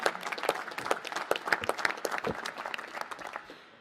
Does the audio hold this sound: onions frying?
no